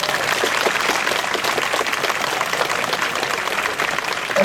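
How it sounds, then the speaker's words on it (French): An audience applauds at a gendarmerie dog demonstration, with steady, dense clapping that holds at an even level throughout. "Vous pouvez l'applaudir, je crois."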